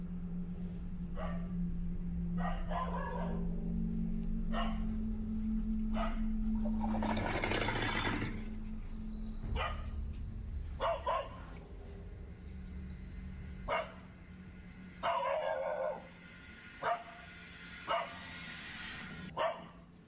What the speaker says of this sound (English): The dog aggressively growls and barks at something Yama can't see.